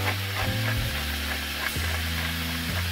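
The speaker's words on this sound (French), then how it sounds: "je la laisserai rôtir comme ça" Minced meat roasting in a pan for stuffed rondini, giving a steady close sizzle with a low tonal hum from the stove or hood underneath and a few soft stirring knocks, no voices.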